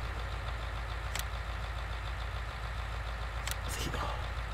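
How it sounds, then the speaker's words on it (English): A farm vehicle engine in Farming Simulator 19 runs at a steady low hum, fairly faint and even, with a few light clicks over it. "The engine RPM on this thing is beautiful. With just the tone."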